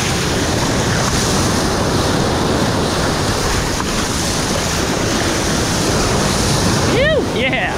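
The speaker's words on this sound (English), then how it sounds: "Fun little waves." Ocean waves lapping against a seawall, a loud continuous surf wash with wind buffeting the microphone throughout, close by, with a brief whistling tone near the end.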